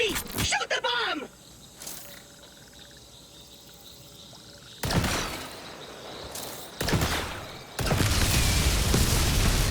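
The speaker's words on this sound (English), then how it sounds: "Rookie, shoot the bomb!" In Borderlands 4 a bomb is shot and blows up, making several heavy booming bursts that crash in and fade over a background of game ambience with insect-like chirping. A voice speaks briefly near the start.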